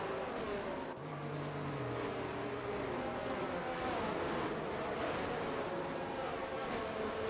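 Racing cars circling the British Grand Prix circuit in a racing video game under a safety-car period, a continuous engine drone with rising and falling tones that stays moderately loud and fairly distant, with no talk.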